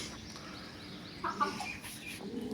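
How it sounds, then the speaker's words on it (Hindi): Chickens in a backyard bird house, including a hen and a black Aseel rooster, cluck softly in a steady low murmur, with one brief louder call partway through and no talking. "इस टाइम मेरे पास एक मुर्गी है हीरा की और एक ब्लैक असील नर है काला।"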